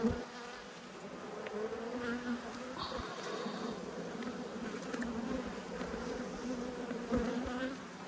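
Honey bees in a late winter hive inspection in Australia, a steady close-up buzzing drone from many bees around an opened frame, continuous and moderately loud with faint handling sounds.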